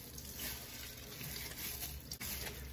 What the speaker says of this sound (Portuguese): Eu não sei o quanto que tem que enxaguar